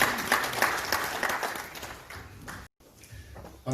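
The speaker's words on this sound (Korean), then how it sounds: "여러분 뜨거운 박수로 환영해 주시기 바랍니다." Warm audience applause welcoming a speaker at a National Assembly prayer breakfast, a thick burst of many hands clapping that cuts off abruptly, followed by faint room noise.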